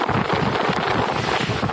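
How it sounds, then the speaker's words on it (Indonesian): Strong wind gusts sweep across small-business tents at a festival site in Mamuju, a loud, steady roaring rush that buffets the microphone without a break. "Angin kencang tiba-tiba menyapu sejumlah tenda UMKM milik warga hingga membuat panik."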